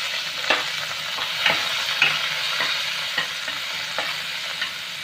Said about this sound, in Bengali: একটু সামান্য নেড়ে নেব।